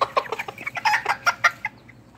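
A rooster gives a rapid run of close, clear clucks lasting under two seconds before falling quiet.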